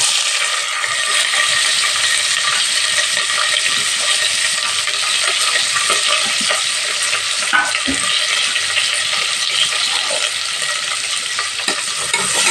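Onions and green chilies sautéing in ghee for ghee rice, a steady bright sizzle and frying hiss with occasional stirring clinks, loud and continuous throughout with no talk.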